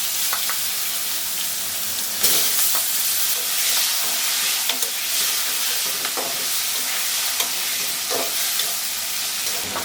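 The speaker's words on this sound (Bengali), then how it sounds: "এই তেলে দিয়ে দেবো একটা তেজপাতা, দুটো শুকনা মরিচ, রাঁধুনি, দিয়ে দেবো আলুগুলো।" Potatoes, a bay leaf, dried red chilies and radhuni seeds fry in hot oil, giving a loud, steady sizzle with scattered clicks of stirring throughout and no voices.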